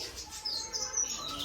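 Multicoloured sparrows chirping in faint, high, scattered tweets over a soft background hum, no talk, heard from a little distance.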